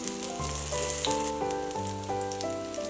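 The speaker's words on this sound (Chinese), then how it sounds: "盖上盖子，再把另一面煎成焦黄色" An eggplant and egg pancake fries in a covered pan, a soft steady sizzle that runs under louder melodic background music.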